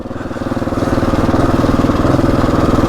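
A Husqvarna 701 Enduro single-cylinder motorcycle engine runs steadily and close by on an off-road ride, its pulsing thump building slightly in loudness and then holding an even, throbbing beat throughout.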